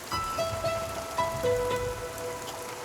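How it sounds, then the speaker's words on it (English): Steady rain falls around a small wilderness outpost cabin in British Columbia, a broad continuous patter with a few faint tonal whistles or calls drifting through it, no voices. "We woke up to more rain. It rained and it rained and it rained."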